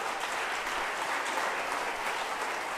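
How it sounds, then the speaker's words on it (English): An audience gives a conductor steady, dense applause, with continuous clapping throughout and no voices on top. "Can we give a big round of applause to Mariella?"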